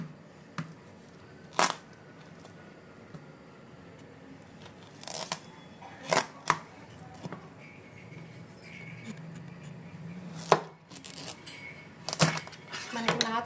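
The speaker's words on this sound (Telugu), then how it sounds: "ఇలాగా కట్ చేసుకుందాం. ఇది 600 గ్రాములు గుమ్మడికాయ అండి." A knife cuts through a very hard, mature 600 g pumpkin, giving sharp, scattered cracks and thunks at irregular intervals, close by, while someone talks between them.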